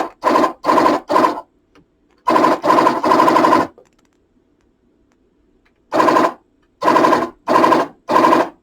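A serger stitching heavier decorative thread runs in short whirring bursts, several quick pulses, then a pause, then more bursts, close and loud with quiet gaps between.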